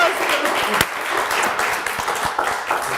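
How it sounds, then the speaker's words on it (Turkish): A TV quiz-show studio audience breaks into applause, a dense close patter of clapping with a few sharp individual claps, steady throughout with some voices underneath. "Bir alkış."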